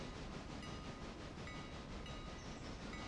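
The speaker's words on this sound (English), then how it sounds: "Now we're going to hook back up to the main train" A train in the railroad game Railroader rumbles steadily as it backs up to couple onto its cars, a continuous dense rolling noise with faint rhythmic clatter and no voices.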